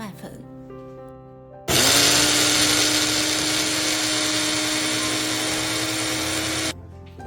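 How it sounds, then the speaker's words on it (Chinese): Food processor grinding a cup of oats into flour, a loud steady whirring roar that starts abruptly, holds evenly for about five seconds, then cuts off, with quieter background sound before and after. "首先把一杯燕麦放入食品处理机打成燕麦粉"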